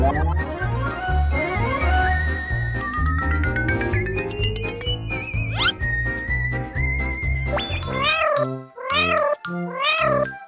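A cat meows and caterwauls loudly in an indoor room, a long run of drawn-out, wavering cries followed by several short, sharp meows near the end, with no talk over it.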